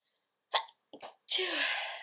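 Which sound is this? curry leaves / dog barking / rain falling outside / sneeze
sneeze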